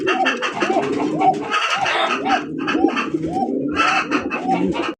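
King pigeons coo close by in a loft, a dense, rhythmic chorus of repeated rolling coos overlapping one another without pause, loud and clear.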